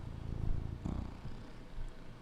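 A male cat purrs softly up close, a low, rhythmic rumble in gentle waves, faint and alone without talk.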